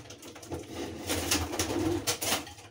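Pigeons coo in a series of soft, low, throaty calls at close range, with a few brief rustles between them in an otherwise quiet setting.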